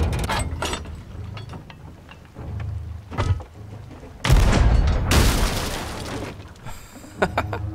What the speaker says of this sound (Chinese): 装载大炮